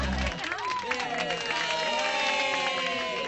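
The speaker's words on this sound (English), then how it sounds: "let's hear a big round of applause" A cartoon circus audience breaks into applause and cheering, a broad crowd wash that rises under an animated voice and music for a few seconds.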